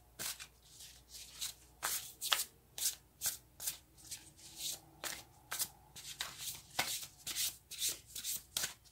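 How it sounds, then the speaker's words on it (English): Cards being shuffled over and over, a rapid rhythmic riffling and snapping that repeats in quick bursts, close up with no talking. "These cards are not happily shuffling."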